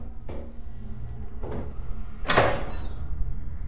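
A door opens with a few dull knocks and clunks, followed by a louder scraping, rattling swing, close by in a quiet room.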